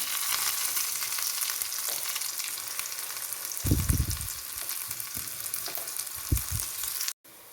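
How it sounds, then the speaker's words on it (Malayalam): Curry leaves and onion frying in hot oil, a close, steady sizzle with a few low stirring scrapes partway through, cutting off sharply near the end. "ഒരല്പം കറിവേപ്പില ഇഷ്ടമാണെന്നത് അല്പം കൂടി ഇട്ട് കൊടുത്തേക്കാം"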